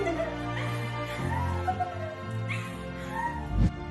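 Dogs greeting returning owners let out high whimpers and yips with a few short barks, close and excited, rising in pitch at times, with a loud thump near the end.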